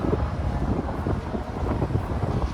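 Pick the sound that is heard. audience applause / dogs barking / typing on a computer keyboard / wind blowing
wind blowing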